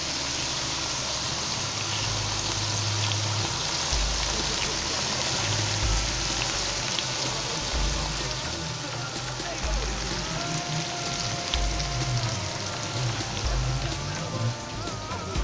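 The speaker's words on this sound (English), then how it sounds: "This is how you must fry bodi." Chopped bodi long beans frying in a pot, a steady hissing sizzle with a bubbling, rain-like crackle throughout, close and fairly loud, with faint low thumps underneath.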